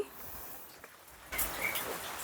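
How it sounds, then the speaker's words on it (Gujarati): Soft, steady monsoon rain patters in the Gir forest area, swelling a little louder partway through, with no talking. "ત્રીજો રાઉન્ડ ચાલુ થયો છે વરસાદનો"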